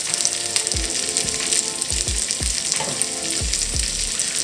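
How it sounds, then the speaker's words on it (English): Boiled pasta noodles hit hot bacon grease in a pan and sizzle loudly, with repeated tossing and stirring scrapes over a steady frying crackle. "Once your noodles are done, we're going to go straight from the boiling water into the bacon grease and toss them to coat."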